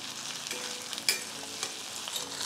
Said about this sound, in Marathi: ही पण कांद्याबरोबर छान परतून घ्यायची आहे